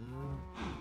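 A cow moos in the video game Minecraft, a single low drawn-out bovine call lasting under a second, fairly quiet and alone.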